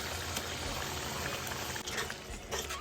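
Pre-boiled mushrooms go into a simmering curry in a pan, giving a steady, soft bubbling and sizzling with faint stirring noises throughout.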